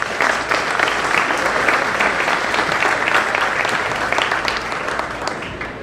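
Sustained, steady applause from a gala dinner audience at a university's 60th anniversary celebration, many hands clapping densely and evenly throughout without a break.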